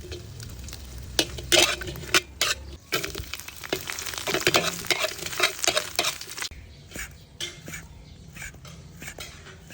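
Shrimp paste fries in oil left over from frying shrimp, with uneven sizzling. Scraping stirs and clinks of a utensil against the pan come in bursts, then fade to quieter sizzle.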